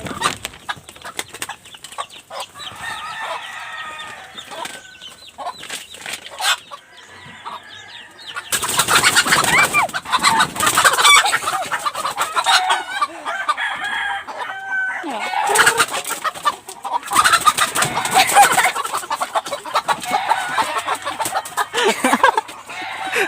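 Chickens cluck and squawk repeatedly, with bursts of agitated noise and flapping, fairly close and loud at times.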